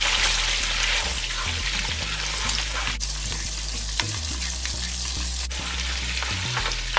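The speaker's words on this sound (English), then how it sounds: "Now that the butter is melted, we will add cinnamon stick," Cinnamon stick, clove and cardamom frying in melted butter for butter chicken, a loud, steady sizzle close to the pan with occasional stirring scrapes.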